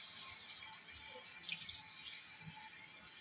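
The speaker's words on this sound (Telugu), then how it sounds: "గ్లాస్ ఫుల్ ఆఫ్ కాకుండా హాఫ్ కొంచెం వాటర్ తగ్గించుకొని ఈ విధంగా వాటర్ అయితే వేసేసుకుందాం" Water poured from a half-filled glass into a brinjal and dry fish curry in a pan, a soft steady trickle with faint splashes and drips, quiet and close, with no talking.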